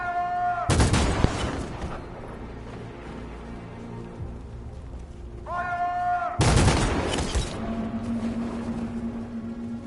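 Two loud, sharp volleys of gunfire at unarmed protesters in the video game Detroit: Become Human, each burst of rapid shots ringing out near and then trailing into a rumbling echo, with game music and ambience underneath.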